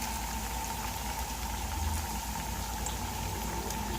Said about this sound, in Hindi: इस तरह अपनी सारी स्टिक्स को हम कर लेंगे फ्राई